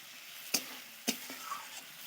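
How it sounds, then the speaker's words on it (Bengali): Mutton being stirred and sautéed in a pan at home, with two sharp scraping strokes of a spoon against the pan over a faint, steady sizzle. "তো আর একটু কষিয়ে নেব ভালো করে"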